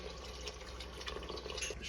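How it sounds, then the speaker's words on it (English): Water poured into thickened tomato jollof sauce in a pot for Nigerian jollof rice, a soft steady trickle and faint splashing, quiet and close with no talking. "you just want to add a little water to it."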